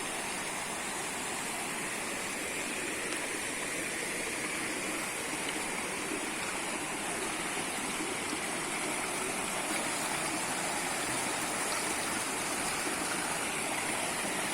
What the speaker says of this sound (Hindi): ये पानी पहाड़ से आ रहा है ना ऊपर,